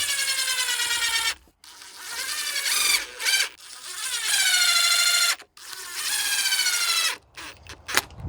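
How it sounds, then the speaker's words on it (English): A power drill drives screws through galvanized steel strap into a wooden patio table, whining up and down in several long, close runs with rising and falling pitch, separated by brief pauses. "I'm going to squeeze on a little bit of glue and then drive in a couple of screws."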